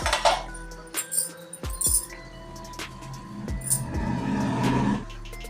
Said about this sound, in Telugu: మధ్యలో ఒకసారి మూత తీసి కలుపుకుందాము.